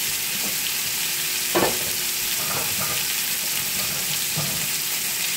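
Salmon fillets sizzle face down in a hot cast iron skillet, a steady close frying hiss with a few brief spatters and pops, no voices.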